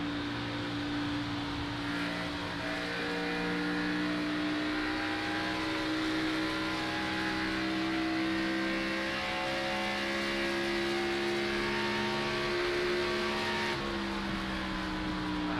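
Race cars at Homestead in a virtual racing league video game drone steadily with sustained engine tones, a continuous loud roar holding a near-constant pitch with a slight shift near the end, no talk over it.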